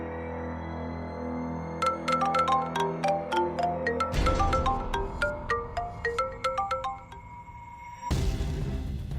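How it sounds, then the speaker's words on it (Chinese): A melodic electronic ringtone plays as a call is placed in a domestic drama scene, its bright chiming notes repeating steadily for several seconds over a low hum before a burst of broadband noise cuts in at the end. "我现在就给妍妍打电话"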